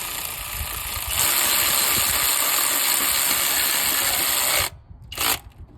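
A ratchet turns a water pump bolt on a 2021 Dodge Challenger with a 5.7L Hemi, giving a steady close mechanical clicking and whirring for several seconds before stopping, with a short final burst after a brief pause.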